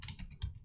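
Quick burst of keystrokes on a Mac computer keyboard while a command is typed into a terminal, a few soft clicks close by under near silence.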